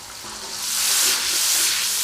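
A little water hits a pan of frying ground spices, including turmeric, chili, salt and coriander, bursting into a brief close sizzle that swells and then settles into a steady hiss.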